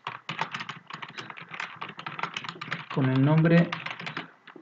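Rapid typing on a computer keyboard, with dense irregular key clicks that continue throughout under someone speaking Spanish, the clatter pausing briefly while he talks.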